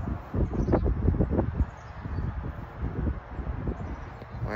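Wind gusting outdoors at a walk-through of an RC track, a steady broadband rumble and buffeting that rises and falls against the microphone, with faint rustling and no talk.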